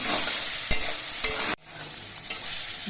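Eggplant pieces fry in hot oil while being stirred with salt and turmeric, a steady close sizzle broken by a few spatula scrapes and a sudden dip partway through before the crackle resumes.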